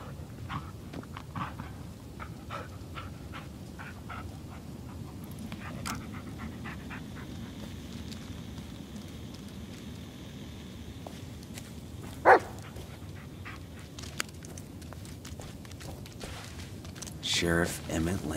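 Dog from the Blair Witch video game whimpering and panting softly, with a couple of brief barks near the middle and end, faint over a low ambient forest rumble.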